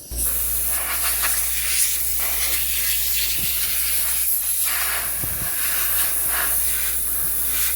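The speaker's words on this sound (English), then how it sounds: "We're gonna blow some dust out of this thing with my homemade ultra quiet air compressor." A homemade ultra-quiet air compressor blows a steady, loud hiss of air to clear dust from inside an old Guild Country Belle AM tube radio, continuing without a break and with brief airy fluctuations.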